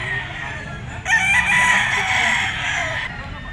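A gamefowl bullstag rooster in a backyard breeder's yard crows once, loud and close, a drawn-out cock-a-doodle-doo lasting about two seconds over a quiet background.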